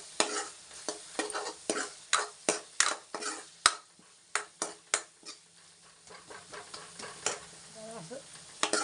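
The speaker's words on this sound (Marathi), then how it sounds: "तळून द्यायचं मसाल्यात" Cluster beans (gavar) frying in spiced masala, stirred with a utensil: a steady run of scraping, clinking strokes over a low sizzle, close and fairly loud with no talk.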